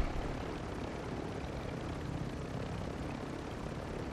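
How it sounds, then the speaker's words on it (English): A helicopter flying in the video game Warzone 2 gives a steady, loud, continuous rotor and engine roar that stays even from start to finish, with no talk over it. "how do you land without like damaging your chopper?"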